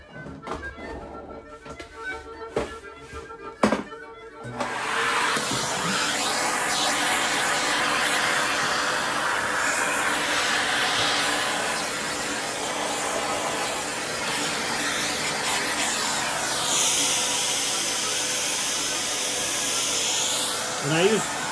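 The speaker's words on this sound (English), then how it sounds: "So I'm gonna vacuum real clean, real quick" A vacuum cleaner starts after a few knocks and handling sounds, then runs steadily with a loud whooshing roar that rises and falls slightly.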